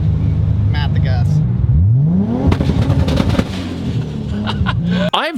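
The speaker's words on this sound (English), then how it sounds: "Put your foot on the clutch, hold this red button, and mat the gas." A Toyota Supra, the Cactus Jack show car, revs with the clutch held and the throttle floored. The engine tone sweeps sharply upward over a steady rumble close by, and voices talk over it.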